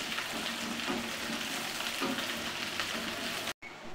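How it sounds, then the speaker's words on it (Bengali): Sliced onions being stirred and fried until brown in a pan for a Bengali egg and potato curry, heard as a continuous, even sizzle with soft stirring scrapes, close and steady, cutting off abruptly near the end. "ভালোভাবে নাড়তে থাকবো। ব্রাউন কালার করে বেরেস্তাটা করে নেব।"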